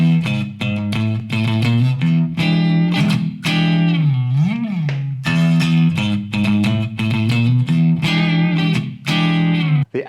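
Electric guitar playing a riff without hybrid picking, its distorted, effects-laden tone loud and close, with repeated note phrases and a bent, wavering note midway, played alone.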